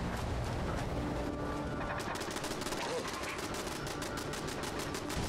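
Automated turrets in Fallout 76 fire continuously in dense, rapid gunfire, with a mechanical clatter running throughout and a voice talking over it.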